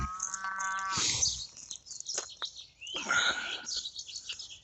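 A cow on a farm gives a long, drawn-out moo in the middle distance, then a second, rougher moo follows. Bird chirps sound faintly in the background.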